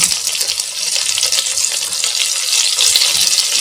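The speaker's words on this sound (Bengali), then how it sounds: "এখানে পেঁয়াজ আদা রসুন হালকা হালকা ভাজা হয়ে গেছে" Onion, garlic and ginger sizzle briskly in hot butter, a dense continuous hiss with light crackling, close and steady.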